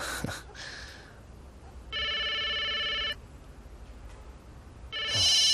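Two bursts of an electronic phone ringtone, one long trill and a second starting at the end, with quiet room noise in between and no talking.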